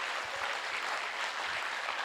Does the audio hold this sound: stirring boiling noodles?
no